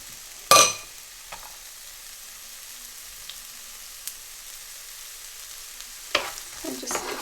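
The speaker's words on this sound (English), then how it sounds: "my oil is nice and hot, so I'm going to add the rest of the onions and let them cook nicely." Onions go into hot oil in a pan with a sharp, loud burst of sizzling, then a faint steady hiss carries on, with another brief clatter and sizzle near the end.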